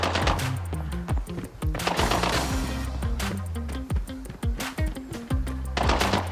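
Rapid bursts of automatic gunfire from an SA85M rifle in the shooter game Arena Breakout, loud and close, with sharp repeated shots and short pauses between volleys.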